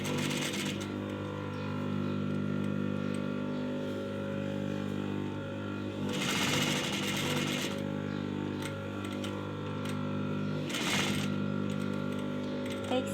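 A sewing machine stitches a shirt neckline with a steady mechanical hum, and two louder bursts of rapid stitching rise above it, while someone speaks over the machine.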